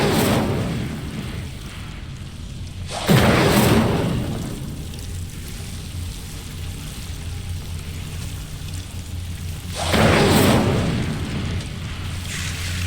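Incendio fire spell cast twice in Hogwarts Legacy, each a loud whooshing burst of flame over a low ambient game bed, spaced several seconds apart.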